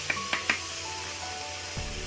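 Tomatoes sizzling in a hot pan while being sautéed for a mutton curry, a steady soft frying hiss with a few brief stirring clatters near the start and no talk.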